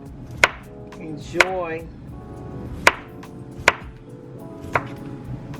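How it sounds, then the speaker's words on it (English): Cucumbers sliced with a knife on a cutting board, five or six sharp separate chops at an uneven pace, heard close, with a person talking between the cuts. "So right now I'm cutting up my cucumbers"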